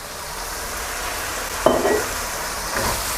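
Chinese cooking wine poured into a wok of stir-fried cartilage with black pepper, a steady sizzle that flares with a sudden hiss midway, then a brief stir later.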